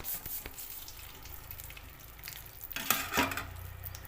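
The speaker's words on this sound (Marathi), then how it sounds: "तुपामध्ये व्यवस्थित पीठ भाजून घेऊया" Fine sago flour roasting in ghee in a pan for fasting laddus, a quiet steady sizzle with a soft scraping stir, and a louder clatter of utensil against pan near the end.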